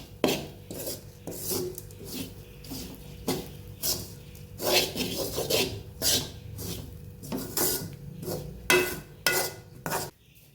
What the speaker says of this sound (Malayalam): ചുമന്ന മുളകും മല്ലിയും കൂടെ ചേർത്ത് കൊടുക്കാം കേട്ടോ. എന്നിട്ട് നമുക്കിത് നന്നായിട്ട് ഇളക്കി കൊടുക്കാം.